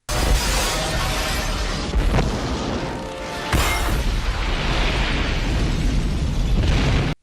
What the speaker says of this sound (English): You can walk away from an explosion.